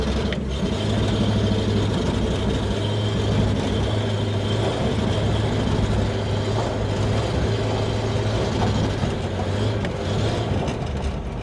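A chopped 1950 Buick lead sled engine runs rough and misfires, a steady loud low rumble with uneven pulsing throughout, close by and with no talk over it.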